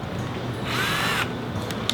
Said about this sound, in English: Just drilling holes in the boat.